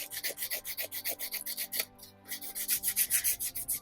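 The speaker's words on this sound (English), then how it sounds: "I really like just filing it." A metal file rasps across the bottom of a wire-wrapped crystal pendant in quick, regular back-and-forth strokes, close and fairly quiet, with one brief pause midway.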